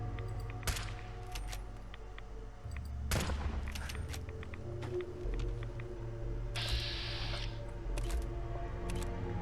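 Gunfire in the video game Fallout 4 from a silenced weapon: a series of sharp, clustered shots with muffled thumps spread across the stretch, set against a low game ambience with no talk.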